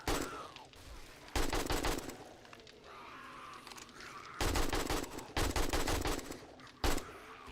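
Gunfire at zombies in 7 Days to Die, with several bursts of loud, rapid in-game shots separated by quieter stretches of background game noise.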